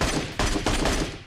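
Loud bursts of rapid automatic gunfire from the PUBG Mobile video game, rattling in quick succession with brief gaps between volleys and no speech over them.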